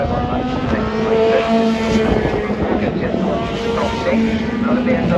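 BMW touring race cars head out onto a racing circuit, their engines droning at a distance beneath wind buffeting the microphone, while a voice talks over the noise.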